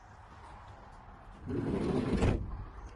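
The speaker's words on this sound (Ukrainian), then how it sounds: "Маємо бокові здвижні двері." A 2019 Opel Vivaro van's heavy sliding side door rolls along its track and thuds shut, a broad rumbling burst lasting about a second over quiet background.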